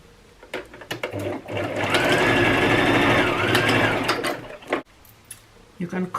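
A sewing machine stitches T-shirt fabric in one continuous run of a couple of seconds, a close, even whirring hum, framed by short handling noises and a voice before and after.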